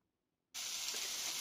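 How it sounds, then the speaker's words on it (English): Brussels sprouts and potatoes frying in a pan give a sudden, steady bright sizzle that cuts in from silence and holds evenly, close and fairly quiet. "I've got my sprouts and my spuds sizzling away."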